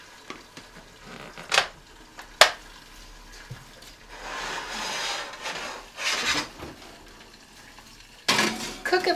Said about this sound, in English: We're going to put the lid back on. We're going to place it in the oven.